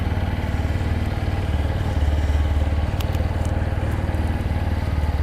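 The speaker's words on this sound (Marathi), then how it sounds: "कोल्ड स्टार्ट होऊन द्या गाडीला" A motorcycle engine idles after a cold start near Lonavala, a loud, close, steady thumping rumble with a faint rattle throughout and no talk.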